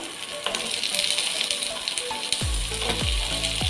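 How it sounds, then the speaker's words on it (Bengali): Chopped potatoes tumble into softened onions frying in a pan for a Bengali-style chole masala; a steady close hiss of sizzling oil runs throughout, with a few dull thumps as pieces land near the end. "এর মধ্যে এবার আমরা টুকরো করে কেটে রাখা আলু দিয়ে দেব"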